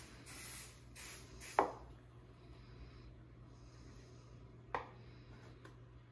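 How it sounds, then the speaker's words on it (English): Short hissing bursts of cooking spray onto a waffle maker sound up close in a quiet room, followed by two soft knocks, with a low steady hum beneath. "you spray some cooking spray or 1/4 cup of butter onto the waffle"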